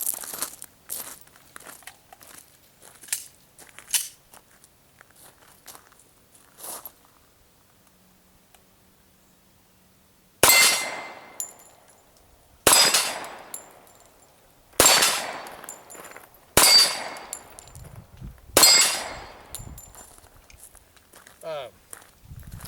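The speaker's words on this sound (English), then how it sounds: "I'm going to come down to the drop plates and shoot the H&K USP 45 at 10 yards" A H&K USP .45 pistol fires five shots at steel drop plates about 10 yards away, each loud sharp report ringing off the 8 to 9 inch plates at a steady pace after a stretch of quieter shuffling and footsteps.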